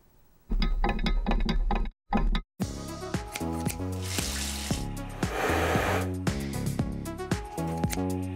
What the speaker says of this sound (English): The sounds of a salon are a sure sign that there's beauty happening here